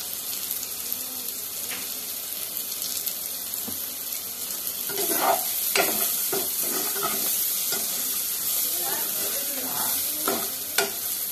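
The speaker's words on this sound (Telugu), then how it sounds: "మంచిగా నూనెలా వేగినాయి ఉల్లిపాయలు, పచ్చిమిరపకాయలు." Onions and green chillies frying in oil for a Telugu-style okra fry, a steady sizzle with scraping stirs that grows a bit louder midway, with no voices.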